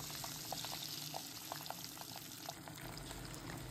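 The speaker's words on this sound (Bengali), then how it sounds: "তারপরে গরম হলে একে একে মাছগুলো ছেড়ে ভালো করে ভেজে নেব" Six pabda fish pieces, about 350 grams, frying in hot mustard oil: a low, steady crackle with small scattered pops, faint and without voices.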